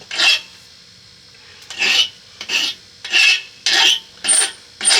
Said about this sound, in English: if you drop your piece down in the vise some, that squealing will stop